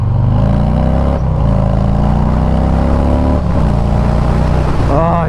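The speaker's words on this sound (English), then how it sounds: "I just need that wind right now" Wind roars steadily past a motorcycle riding through a Texas winter storm, with the engine droning loud and continuous underneath and shifting pitch a few times as it revs.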